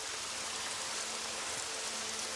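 Steady, dense hiss of rainfall pattering on surfaces, continuous and even with no voices, fairly faint and uniform throughout.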